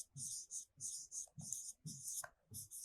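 Marker or chalk scraping across a classroom board in repeated short strokes with brief pauses, fairly close and clear, with no talking.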